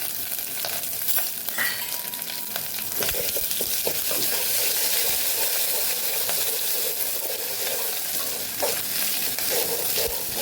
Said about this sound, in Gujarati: રાઈ મીઠા લીમડાના પાન આદું ઉમેરી દેશું લીલા મરચાં પણ ઉમેરી દેશું